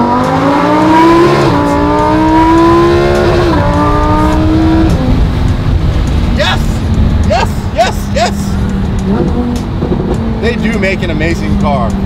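A Lamborghini Huracan Evo fitted with Vorsteiner carbon parts accelerates hard. Its engine revs climb loudly through several quick upshifts, then settle into a strong roar. Someone talks over the noise.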